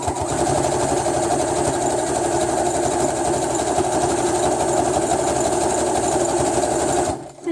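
A sewing machine runs steadily while stitching through clipped quilt layers, a close, continuous rapid mechanical whir and needle clatter that stops abruptly near the end.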